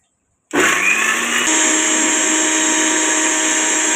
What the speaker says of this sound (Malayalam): നമുക്കൊന്ന് ഇനി അതൊന്ന് ചതച്ച് എടുക്കാം